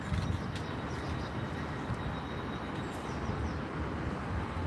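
Train standing at the station in Gloucester, a steady low rumble of the idling engine with faint high clicks and squeaks over it, fairly distant and with no talk.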